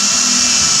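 A power drill whines loudly and steadily at close range while boring a hole through a Ford Explorer's front for a grill guard, a brief continuous high-pitched grind.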